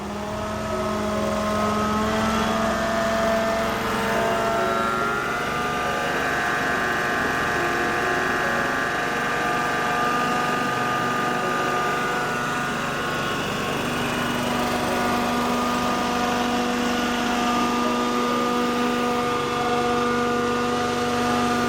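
An Amtex Prowler 2533 LP propane-powered machine's small engine runs continuously with a high, steady whine that rises slightly as its RPM is increased, close and loud throughout.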